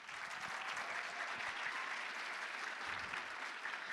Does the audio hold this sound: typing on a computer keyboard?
no